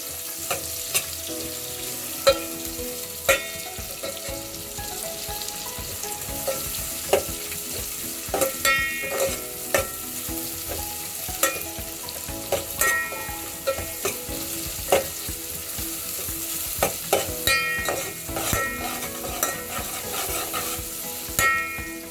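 Onions fry in a pan for egg biryani, crackling steadily up close for a long stretch, with frequent sharp spatula clicks and scrapes against the pan.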